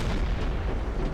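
A warship's naval gun fires a warning shot in Silent Hunter 3, heard as a deep, rumbling boom that swells and lingers low and heavy across the moment.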